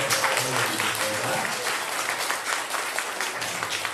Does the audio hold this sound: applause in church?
yes